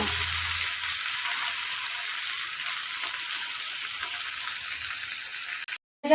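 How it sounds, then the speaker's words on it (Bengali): Chopped onion and sliced tomato frying in a pan with slit green chillies, a steady hissing sizzle close by with no talk, cut off briefly near the end. "পেঁয়াজ একটা কুচনো আর টমেটো স্লাইস করে কাটা দিয়ে দু মিনিট মতো ভেজে নেব"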